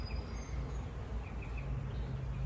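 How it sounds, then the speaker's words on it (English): Honey bees buzz faintly around a garden hive, soft scattered hums drifting over a low outdoor background, with no talk. "Oh, I think they're happy little bees."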